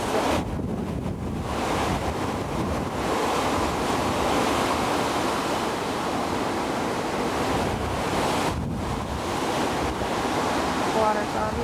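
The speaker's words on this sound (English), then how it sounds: "There's one coming in. Kind of like the surf." Hurricane Katrina storm surge rolls in near a street and house, a loud continuous roar of wind-driven waves and water buffeting the microphone without pause.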